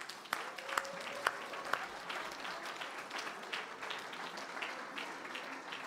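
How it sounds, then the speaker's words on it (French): A room at a Christmas sweater party applauds the decoration and catering team, giving steady, moderately loud clapping with a few sharp individual claps standing out near the start. "J'aimerais également que vous applaudissiez toute l'équipe de la déco et de la restauration."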